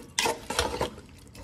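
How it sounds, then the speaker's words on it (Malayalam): Beef pickle being stirred and mixed by hand, giving a few short, scraping stir strokes in quick bursts, fairly faint and close, with no voices. "എന്നിട്ട് മിക്സ് ചെയ്ത് കൊടുക്കണം"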